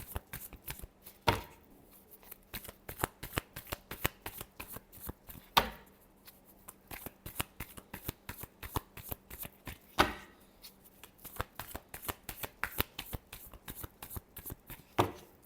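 A deck of tarot cards is shuffled by hand in rapid riffling bursts, a dense stream of crisp flicks broken by a few louder slaps, close and clear with no talking.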